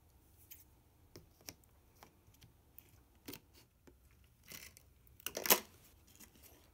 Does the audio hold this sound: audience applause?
no